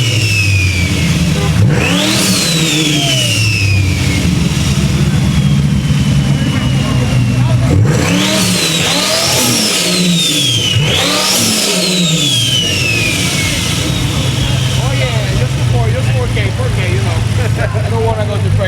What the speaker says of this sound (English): Any car you want to rev, make sure you warm it up